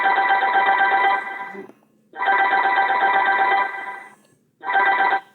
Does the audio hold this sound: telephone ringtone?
yes